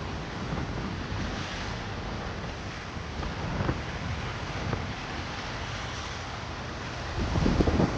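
Waves surging and washing onto a white-sand beach on Patawan Island in Balabac, Palawan, with steady wind rumbling across the microphone, a continuous roaring wash that swells louder near the end.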